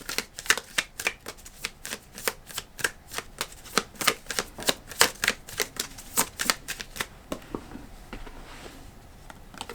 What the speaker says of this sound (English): I'm going to pull one card from the Animal Apothecary just to end it.